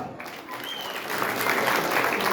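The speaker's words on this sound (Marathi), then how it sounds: "अनुरागला रिक्वेस्ट केलं तर जोरदार टाळ्या" An audience at a Ganesh festival programme breaks into loud, sustained clapping, a dense crowd applause that builds and holds steady, close and full throughout.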